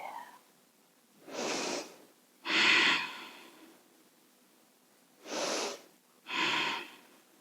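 Four slow, deep breaths during a seated chair yoga session, each a broad airy rush lasting about a second, spaced by quiet pauses, close and fairly soft, with no talk over them.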